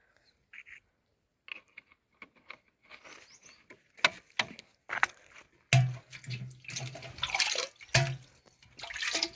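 Water splashes and drips while something is washed, starting with sparse faint drops and growing into louder, irregular sloshing and pouring toward the end.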